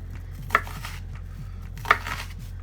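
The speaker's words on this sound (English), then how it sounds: "just dice it the opposite way" A knife taps down twice on a cutting board while dicing an onion, two sharp separate chops over a steady low hum, no talk.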